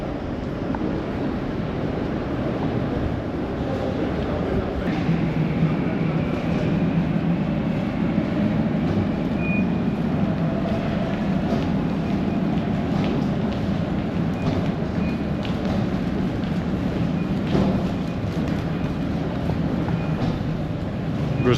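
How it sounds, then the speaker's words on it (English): Athens metro train running through a deep underground tunnel, a steady loud rumble of wheels and rails with a low roar throughout, occasional squeals and clanks, with no talk over it. "On the metro here in Athens as we try to find our way to Syntagma Square."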